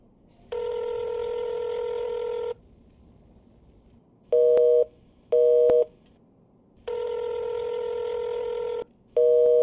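Telephone sounds in a video game: a long busy-signal tone, then short repeating beeps, then the long tone again with more beeps, clear and evenly spaced over faint background noise, with no talking.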